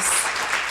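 A church congregation applauds during a sermon, producing dense, steady clapping that fills the short moment without pause.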